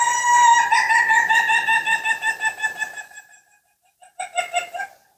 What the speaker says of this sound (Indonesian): sekarang kalau misalnya dengar suara ayam kayak gini